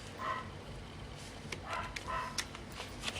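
A dog barks faintly from upstairs in a house, a few muffled yips and woofs scattered over a steady background hiss.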